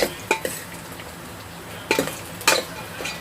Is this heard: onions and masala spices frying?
yes